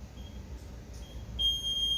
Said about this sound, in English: I'm going to set my timer up, and we're going to go.